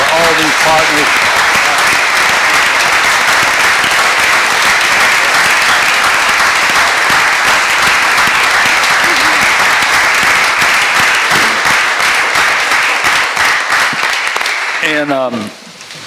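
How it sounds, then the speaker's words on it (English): An audience at a Charleston city council meeting breaks into loud, sustained applause and clapping that fills the room steadily, fading only at the very end. "can we all give just a huge round of applause for all these partners?"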